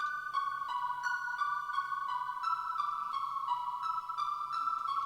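A bright synth counter-melody from Arturia Pigments plays a steady run of short, bell-like plucked notes in an eight-bar hook for a hard beat, clear and upfront with a soft low pulse beneath and no voices.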